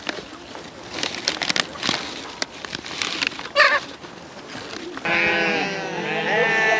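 Sheep on a cold mountain farm in Korea bleat in a drawn-out, wavering call near the end, following a stretch of scattered outdoor noise and brief chatter from people nearby.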